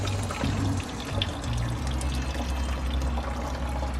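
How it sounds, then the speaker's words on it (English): Water drains and trickles from a tipped container of maraschino cherries, a steady close pouring and dribbling over low background rumble. "I'm gonna tilt it forward and let some of this water drain out"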